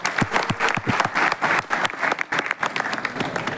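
An audience bursts into loud, sustained applause, dense clapping from a crowd filling the whole moment, close and continuous with no pauses.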